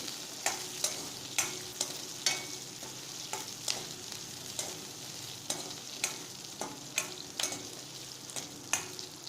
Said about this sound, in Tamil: சிறிய வெங்காயம் நன்கு வதக்கவும்.